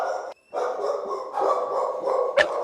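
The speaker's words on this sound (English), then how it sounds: "So that's a really typical dog ward." Several dogs bark loudly and continuously in a Humane Society shelter dog ward, their overlapping barks echoing close by with a brief pause early on.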